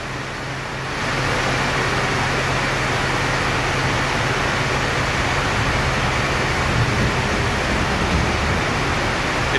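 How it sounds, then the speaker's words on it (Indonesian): Heavy rain pours steadily outside a bus in Palembang, a dense, loud, continuous hiss that swells after the first second and holds unbroken with no talk. "Aduh, hujan deras."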